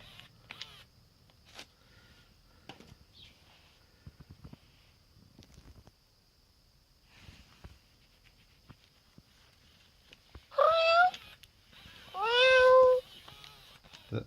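After scattered soft clicks and mechanical taps, two loud meows ring out near the end, each a falling electronic cat call, one after another, from an orange Joy For All B7592 robot companion cat.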